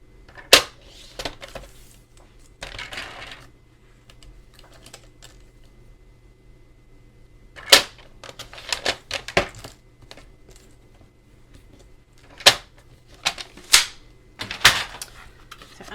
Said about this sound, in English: And then I'm going to cut them to 8 1/4.